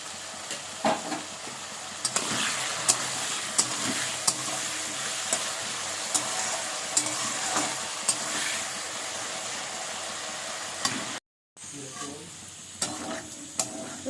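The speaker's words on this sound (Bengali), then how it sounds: "দেখো আলুটা একটু নেড়ে ছেড়ে এবার আমি একটু দিয়ে দেবো নুন আর দিয়ে দেবো একটু হলুদ" Potatoes stir-fry with salt and turmeric in a pan, giving a steady close sizzle broken by regular clicks and scrapes of the stirring spoon, with a brief gap of silence near the end.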